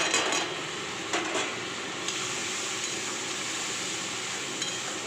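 Spice paste of turmeric, chilli, cumin and coriander powder frying in oil for jackfruit kofta gives a steady, close sizzle, with a few clinks of a utensil against the pan.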